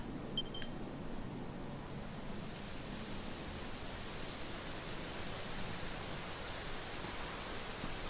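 Steady, dense rain hiss in a video game fills the whole stretch, an even wash of falling drops with no other sounds standing out.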